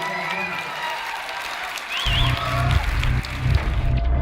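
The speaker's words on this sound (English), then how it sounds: "big round of applause for Mark Wahlberg" Crowd applause and cheering for Mark Wahlberg at a Sydney screening Q&A, a steady wash of clapping that swells louder about halfway through, with a whistle-like cheer rising above it.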